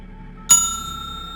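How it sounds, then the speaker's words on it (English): A front desk service bell in a hotel lobby is struck once, a sharp bright ding that rings on and slowly fades in a quiet room. "The bell at the front desk rang."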